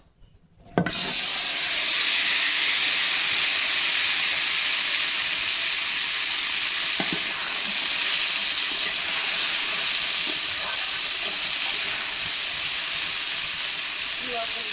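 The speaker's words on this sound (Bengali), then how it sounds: "এখন আলুগুলো দিয়ে ভেজে নেব" Potatoes fry in hot oil with a loud, steady sizzling hiss that starts abruptly as they go into the pan and carries on alone, with faint clinks now and then.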